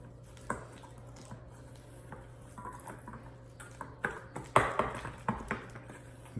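Gloved hands work garlic herb butter and seasoning together for a single-bone prime rib, giving soft squishy smacks and faint taps of a bowl, sparse at first and then busier and louder toward the end, with no talking.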